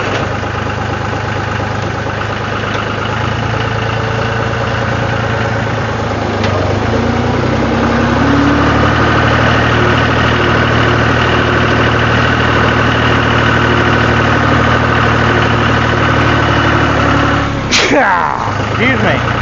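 A ranch tractor engine runs steadily at idle, loud and close with a constant low rumble and vibration, while someone talks over it and a brief clank sounds near the end.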